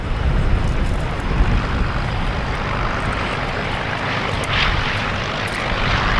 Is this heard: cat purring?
no